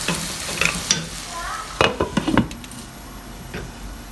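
Potatoes and fenugreek leaves cooking in a pan for aloo methi, with a soft steady sizzle broken by a few clattering stirs and a lid or utensil knocking against the pan.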